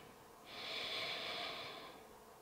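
A single long, steady breath during a beginner yoga session, drawn out for about a second and a half as an airy hiss, close and fairly quiet, with no talking.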